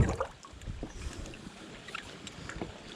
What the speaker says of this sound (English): It is a lot windier today than it was, so apologize for the wind noise.